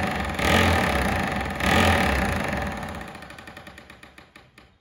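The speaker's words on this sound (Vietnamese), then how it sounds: "Đục bê tông này." An electric 220 V rotary hammer chisels concrete with a rapid, loud rattling of impacts in two strong bursts, then the motor winds down as the blows slow and fade.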